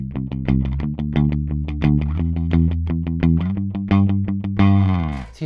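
Picked with alternating down and upstrokes, a Schecter Diamond J Plus jazz bass plays a rapid, even stream of notes up close, finishing on a sustained ringing note.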